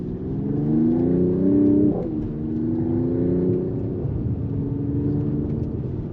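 2023 AMG GT 43 4-door coupe pulling away: a loud, close engine hum whose tones climb steadily, dip briefly as it shifts, then keep rising as the car gathers speed, with no talking.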